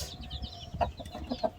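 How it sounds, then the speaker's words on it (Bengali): Chickens kept alongside pigeons cluck in short, soft bursts close by, a few brief calls scattered over low background rumble. "আর এই হচ্ছে মুরগি"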